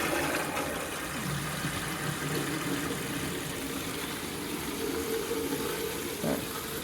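Continuous rushing hiss of water filling the pipes of a Navien NPE series tankless water heater after a check valve replacement, steady and moderately loud, with a faint low hum beneath.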